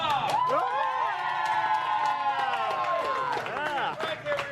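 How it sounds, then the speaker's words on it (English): Restaurant crowd cheering and whooping for a man's 27th birthday, a loud, continuous wash of voices with scattered claps and shouts throughout, with many people calling out over one another. "Let's give him a round of applause."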